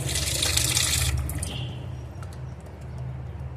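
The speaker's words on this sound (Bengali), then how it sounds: "এখন মাছগুলো সব জল দিয়ে ধোবো, ভালো করে ধুতে হবে জল দিয়ে।" Tap water runs over fish pieces being washed for a curry: a strong, close splashing stream for about a second, then a softer trickle continuing to the end.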